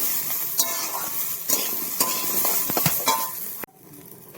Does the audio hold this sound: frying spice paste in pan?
yes